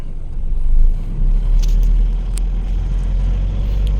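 A 2006 Isuzu D-Max Highlander 3.0 pickup moves in gear with a steady low engine and road rumble heard from inside the cab. A few faint clicks and ticks sit over the drone.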